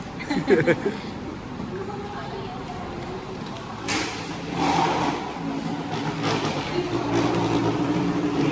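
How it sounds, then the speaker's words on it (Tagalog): A motorcycle engine revs and hums at mid distance, growing louder toward the end, while people talk over it outside Jose Rizal Coliseum. "Narinig lang na tunog motor eh."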